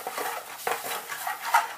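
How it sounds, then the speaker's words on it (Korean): Spoon stirring broth into a chicken à la king sauce in a pot, soft scraping and light clinks repeating through the mixing, quiet and close with no talk. "그리고 또 한 큰술 넣고 섞어줍니다"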